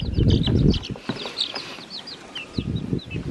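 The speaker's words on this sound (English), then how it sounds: "I'm so happy that you got some chickens for us." Several chickens cluck and chirp softly nearby, a busy patter of short calls over low rustling background noise.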